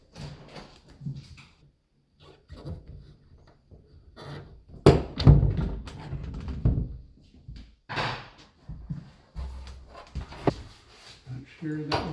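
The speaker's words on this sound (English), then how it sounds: "Get a little pry bar, lift up on the door." A pocket door in a Montana tiny home is pried up and lifted off its track with a small pry bar, giving scraping, knocking thunks and a burst of rattling wooden clatter in the middle, with someone talking between sounds.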